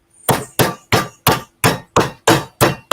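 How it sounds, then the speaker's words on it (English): Eight evenly spaced, heavy thuds sound close by as a meat mallet pounds raw chicken flat on a board, each blow sharp and followed by a short decay. "So I'm just going to run my mallet on here a few times."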